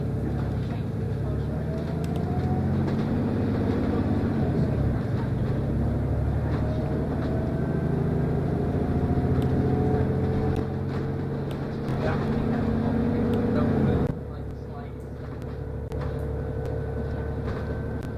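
A vehicle engine runs steadily throughout with a continuous low rumble and drone, its level dipping briefly near the end, while faint background sounds mix in.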